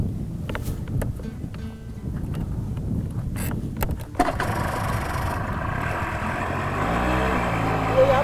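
A motorcycle is ridden in Oman, its engine droning steadily up close. Near the end the pitch climbs as the rider revs and accelerates.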